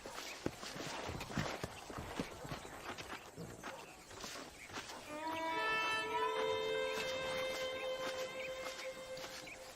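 Horse hooves clip-clopping while riding in the video game Red Dead Redemption, rhythmic and fairly quiet, joined partway through by sustained tonal game music over the steady hoofbeats.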